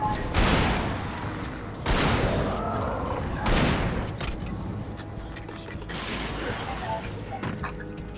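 Gunfire in the Alan Wake video game: several loud shots a few seconds apart, each a sharp burst with a ringing tail, over a steady background of game ambience.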